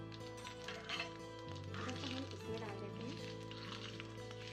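Hot oil tempering of curry leaves, cumin and asafoetida hisses steadily as it is poured into a chutney, a continuous close sizzle over sustained background tones.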